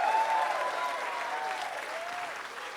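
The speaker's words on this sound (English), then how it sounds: "let's hear a big fucking round of applause for Extra Mile Records" Applause from an audience at a Frank Turner show at the Spitz in London, a dense sustained clapping that fills the room and tapers slightly, with a voice faintly over it.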